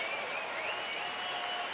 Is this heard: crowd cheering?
yes